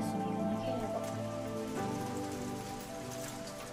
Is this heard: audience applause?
no